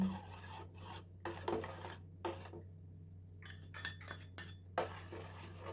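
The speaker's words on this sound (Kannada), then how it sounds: "ಈ ನೀರಿಗೆ ಇಲ್ಲಿ ನಾವೇನು ಮಿಕ್ಸ್ ಮಾಡ್ಕೊಂಡಿದ್ದೀವಲ್ಲ ಈ ರಾಗಿ ಹಿಟ್ಟು, ಇದನ್ನು ಹಾಕಿ ಚೆನ್ನಾಗಿ ತಿರುಗಿಸ್ಕೋಬೇಕು" Ragi flour being stirred into boiling water in a pot, scraping and rasping strokes of a spoon against the metal in irregular bursts with short pauses, close and fairly quiet.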